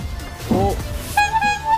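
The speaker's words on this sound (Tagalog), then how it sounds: "Ito sir, busina niya na to." A voice speaks briefly, then a bright, nasal motorcycle horn on a Yamaha Mio scooter sounds twice, the second blast sustained, close and fairly loud.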